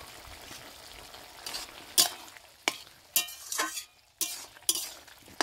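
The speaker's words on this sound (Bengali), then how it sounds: "দিয়ে খুব ভালো করে মিশিয়ে নেব" Pre-fried pui shak (Malabar spinach) stems being stirred into a simmering curry with puti fish, soft frying hiss broken by several sharp spoon scrapes and clinks against the pan.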